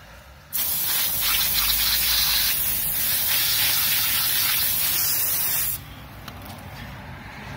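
Wheel cleaner spraying onto a car wheel in one continuous, close hiss lasting about five seconds, starting and stopping abruptly, with quiet background before and after.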